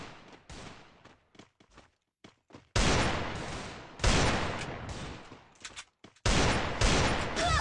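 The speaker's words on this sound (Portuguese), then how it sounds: "eu tava atirando no outro, ele se aproveitou e me matou" Gunfire in the battle-royale game Garena Free Fire: loud bursts of rapid shots come in uneven volleys with short quiet gaps, several long sustained barrages standing out near and harsh.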